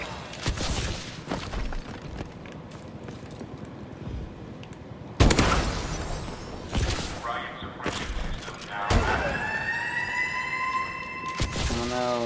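Siren wail in the Advanced Warfare multiplayer video game, a rising and falling tone in the second half over dense gunfire and game noise, with a player talking throughout.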